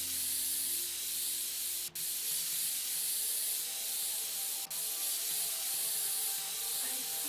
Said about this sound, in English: it's not the strongest can of compressed air, but there we go